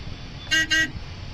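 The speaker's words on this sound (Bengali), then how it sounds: "হর্ন দিলাম" Two short, loud honks of a car horn in quick succession, heard over a low road rumble, sounded behind a large vehicle on a local road.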